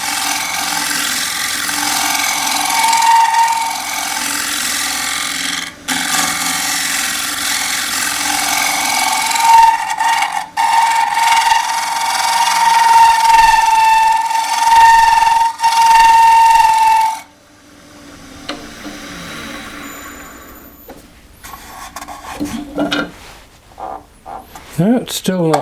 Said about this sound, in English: I'm just trying to keep the tool barely rubbing the wood.